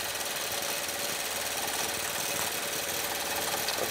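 A sewing machine stitches a quilt with a continuous, fast mechanical whirr and rattle, loud and close, running steadily without pause.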